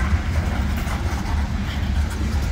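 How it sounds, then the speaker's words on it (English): A short freight train pulled by a single locomotive rumbles past, its low steady drone of wheels and engine continuing at moderate distance without any speech. "here's kind of a short train going down to Lounsbury."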